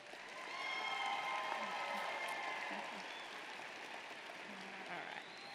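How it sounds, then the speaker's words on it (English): Audience applause rings through a university commencement ceremony in honor of graduates' families, a fairly faint, distant wash of clapping from a large crowd that rises early and then settles. "Give your families a round of applause."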